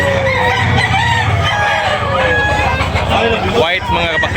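Backyard roosters crow and chickens cluck at a busy poultry market in Tabunok, Talisay, Cebu, loud and close, with overlapping calls and people talking nearby.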